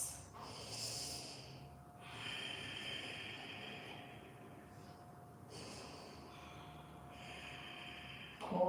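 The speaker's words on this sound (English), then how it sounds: "Create space to take in those deep breaths." Deep breathing during a yoga stretch, slow audible inhales and exhales repeating in a calm rhythm, close and soft with no talking.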